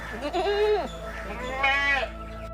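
Goats in a farm pen give two distinct bleats close by, a wavering cry followed by a shorter, higher one, over a low steady background hum.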